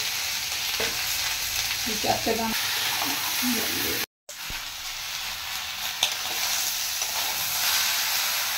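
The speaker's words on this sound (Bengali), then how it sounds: "চিংড়ি মাছ একসাথে এগুলো নেড়ে নেওয়া হবে" Shrimp sizzle and fry steadily in a hot pan while being stirred, with occasional scraping and a short dropout partway through.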